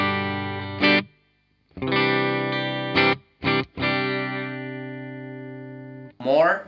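Sustained electric guitar chords ring out through a Marshall Valvestate VS100R amplifier with reverb, separated by short stops and quick strums, the tails lingering briefly.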